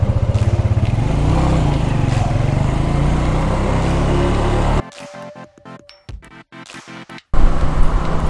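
A weak, slow motorcycle engine drones loudly and steadily, then cuts out into sputtering gaps before roaring back near the end.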